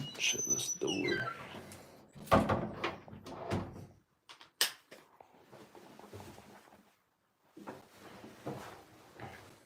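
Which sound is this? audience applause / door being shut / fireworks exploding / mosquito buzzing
door being shut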